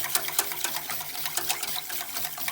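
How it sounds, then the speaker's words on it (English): Wire whisk working steadily through a sauce thickening in a pan over low-to-medium heat, a quick repetitive scraping and swishing rhythm at close range with no talking. "So keep whisking."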